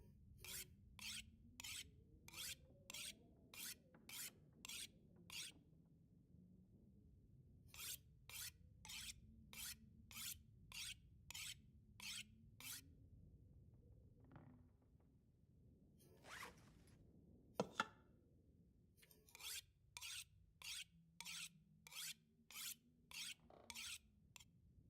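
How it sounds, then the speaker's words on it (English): Blade sharpening in the video game Total Chaos, a rhythmic rasping scrape repeated in long regular runs of strokes with short pauses, over a low ambient hum, faint and close. "Keep sharpening."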